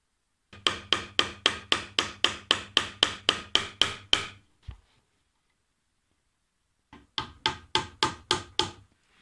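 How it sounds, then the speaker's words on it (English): A hammer drives nails into wooden planks while building yurt windows, giving a fast, even run of sharp, loud knocks. After a pause of near silence, a second quick burst of strikes follows, close and with no talk over it. "now I will nail them in place"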